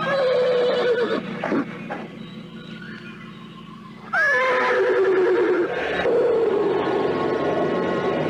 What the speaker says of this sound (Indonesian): Kuda putih yang diberi nama Tunggul oleh Anting Wulan kemudian melompat tinggi